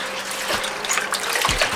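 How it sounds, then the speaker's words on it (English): Chopped bok choy being swished by hand in a basin of water to rinse off dirt, giving close, continuous sloshing and splashing with small gurgles and a few louder swirls, with no talk. "Swish around a little bit, get all the dirt off of there."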